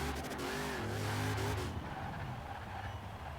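A custom AMC Rebel drag car in Forza Horizon 4 roars steadily with engine whine and tire squeal, the pitch rising and falling before easing into a lower, rumbling drone.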